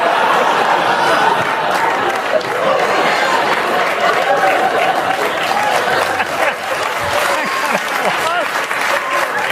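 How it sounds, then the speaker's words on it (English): A studio audience at a Saturday Night Live Weekend Update taping breaks into sustained, loud applause after a joke, with scattered chatter and chuckles mixed in throughout. "That eventually got applause?"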